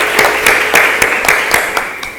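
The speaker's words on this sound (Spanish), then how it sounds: "la recibimos con un fuerte aplauso" Sparse, distinct claps ring out in a roughly even rhythm, loud and close, as a seminar audience welcomes a speaker.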